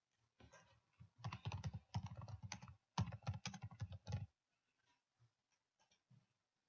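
Someone types a short name on a computer keyboard in quick bursts of soft, close keystrokes, then a few scattered taps before the typing stops.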